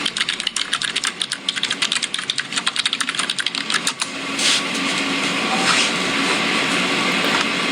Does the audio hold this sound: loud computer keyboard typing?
yes